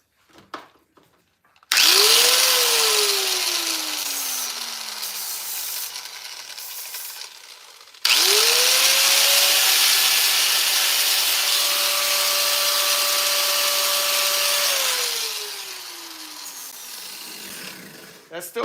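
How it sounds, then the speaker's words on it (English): A power grinder spins up twice in a workshop while installing a Blackbone two-speed part, each run a loud, close, rising whine that holds and then winds down, the second run longer. "Well, I suppose I can just use my grinder real quick."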